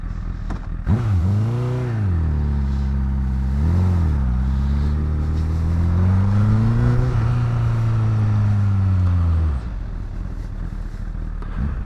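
A 2010 Honda Fireblade CBR 1000cc motorcycle engine rides close by, rising and falling in pitch through several revs as it accelerates, loud and continuous for about nine seconds before cutting to quiet.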